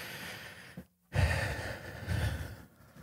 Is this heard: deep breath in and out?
yes